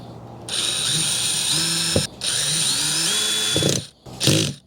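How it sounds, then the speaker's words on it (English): A cordless power drill drives screws into a plastic Igloo cooler while a new stainless steel latch is fitted, with two long whirring runs, loud and close, broken by a brief pause, ending in rapid clutch ratcheting. "You can hear the clutch and the drill"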